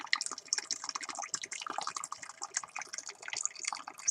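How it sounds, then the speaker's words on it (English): Hot water from a thermos trickles and splashes into a tea steeper, a soft, close, continuous stream of irregular bubbling and dripping with no voices. "So, hot water going into"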